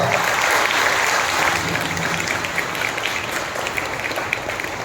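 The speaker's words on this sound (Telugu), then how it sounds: "బిగ్గరగా చప్పట్లు కొట్టి మన ప్రభువును మహిమపరుద్దాం." A church congregation at a New Year service applauds loudly and continuously, a dense wash of clapping that fades slightly toward the end.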